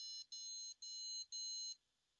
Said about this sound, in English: We have how many beep codes?